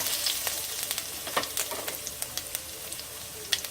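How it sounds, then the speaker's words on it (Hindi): Cumin seeds and green chillies frying in hot oil for a Hyderabadi dum veg biryani, a bright continuous sizzle dotted with sharp pops and crackles, close and without talk. "अब इसमें जीरा डालेंगे, हरी मिर्च डालेंगे, इसको भून लेंगे।"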